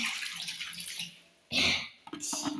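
Water gushes and splashes loudly in a short burst, then a second rougher pour follows after a brief lull, with softer trickling and a faint voice-free background before it.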